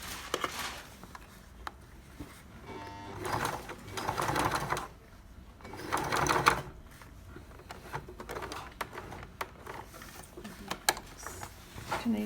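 A sewing machine stitching a Stacie Jean denim jacket runs in several short bursts of rapid mechanical chatter, separated by quieter pauses with faint handling noise.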